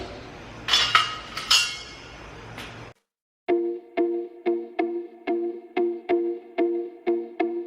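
A knife cuts food on a board in a home kitchen, first in a few rough scraping chops, then after a brief pause as a steady series of about a dozen crisp, evenly spaced knocks close by, with no talk.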